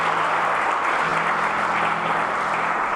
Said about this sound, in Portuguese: Alguém aplauda Jesus. Alguém aplauda Jesus.